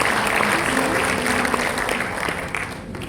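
A church congregation at a Christmas sermon breaks into enthusiastic applause, a dense, continuous crowd clapping heard from within the hall, with a faint voice underneath and the clapping easing off toward the end.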